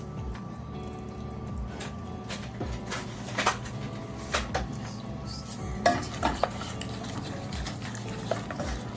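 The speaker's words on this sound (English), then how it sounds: "So you see it's boiling down into a glaze" A pan of sauce boils down into a glaze, bubbling and sizzling steadily while a utensil stirs and scrapes against it, with occasional clinks close by.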